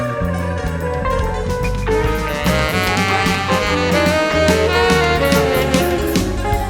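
A 1990 live jam by a band with a saxophonist builds in a dense, continuous flow of drums, bass, guitars and sustained melodic lines.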